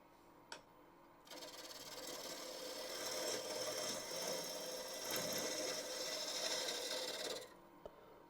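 A wood lathe spins an end-grain bowl blank while a turning tool cuts to true it up, producing a sustained rough scraping hiss for about six seconds that starts and stops abruptly, with faint knocks before and after.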